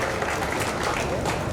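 A hall audience at the Talent Award Barwani 2024 ceremony claps steadily in a dense, continuous round of applause welcoming the chief guest, evenly loud throughout with no pause.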